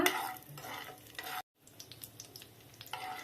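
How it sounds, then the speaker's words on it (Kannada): Twenty raisins fry in a pan for carrot halwa, giving a soft sizzle with scraping stirs that break briefly and then resume, quiet and close with no talking. "ಈಗ ನಾನು 20 ದ್ರಾಕ್ಷಿ ಹಾಕ್ತಾ ಇದ್ದೀನಿ. ಇದು 1 ನಿಮಿಷ ಫ್ರೈ ಮಾಡ್ಕೊಳ್ಳೋಣ."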